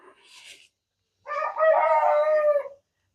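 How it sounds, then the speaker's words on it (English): A rooster crows from the roost in the early morning, one long, loud call close by after a brief earlier sound. "Theodore starts crowing before he ever gets off the roost."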